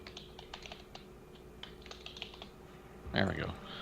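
Quick, light clicks of typing on a computer keyboard patter in short irregular runs, close and fairly quiet, ending with a brief voice.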